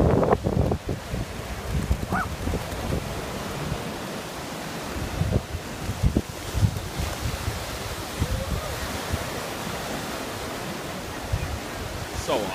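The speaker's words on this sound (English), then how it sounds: "She's just trying to figure out what waves are" Ocean waves washing onto a beach shore, a continuous broad rushing surf with wind buffeting the microphone, a few louder surges near the start, and faint voices mixed in.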